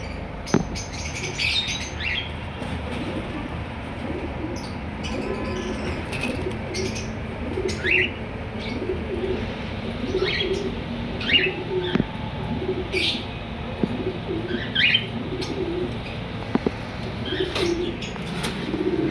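A pair of red-eye albino personata lovebirds, a male paired with a common white female, make scattered sharp chirps and squeaks, with soft low calls and rustling in between.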